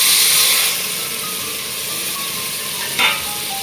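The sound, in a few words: tomatoes added to the pan, sizzling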